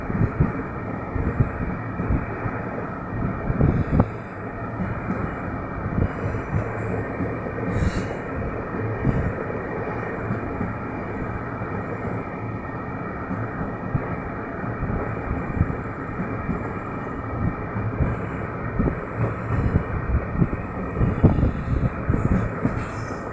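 A passenger train rumbles steadily along from Mahuva toward Surat, a continuous close rattle and roar of wheels on track, heard from aboard with wind noise and no talk.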